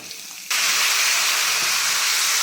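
Eggplant pieces drop into a hot pan of oil with dried shrimp and turmeric, bursting into a loud, steady sizzle that starts abruptly after a quiet moment and holds strong throughout.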